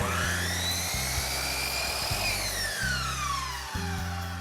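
A miter saw hums at high speed as it cuts a polyurethane crown molding at a 45-degree miter angle, a loud steady whine with a rising and falling pitch and low thumping underneath, heard alone.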